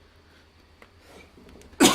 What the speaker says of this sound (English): Hope I was not coughing in the microphone here.